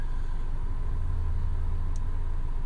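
Low, steady road rumble inside a moving car, a constant drone filling the cabin throughout with no talk.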